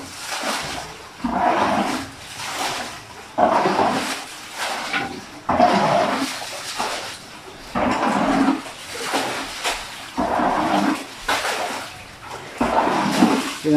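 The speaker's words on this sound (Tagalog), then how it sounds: "Pinangasok kami guys ng baha." Floodwater inside a house after Typhoon Carina, with repeated sloshing and splashing surges of water at close range, rising and falling in waves with no talking.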